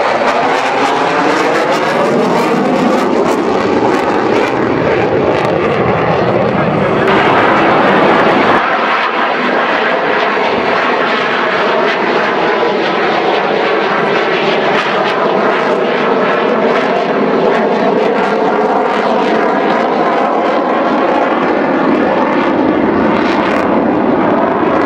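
An F-18 Hornet jet flies past at an air show in Malta with its tail hook lowered, a loud, continuous roaring engine drone that swells and shifts in pitch over its whole length, with no talk.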